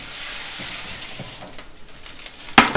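Vegetable oil heating in a very hot frying pan gives a steady hiss for the first half, fades, then a sharp louder sizzle burst near the end as something hits the pan; no talking.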